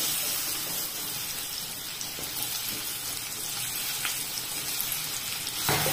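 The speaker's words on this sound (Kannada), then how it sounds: "ಒಣ ದ್ರಾಕ್ಷಿ ಒಂದು ಸ್ವಲ್ಪ ದಪ್ಪ ಆಗಲಿ, ಎಲ್ಲ ಫ್ರೈ ಆಗ್ತಾ ಉಂಟು" Raisins and chopped banana frying in a pan, a steady close hiss of sizzling oil running throughout with a faint scrape near the end, no talking.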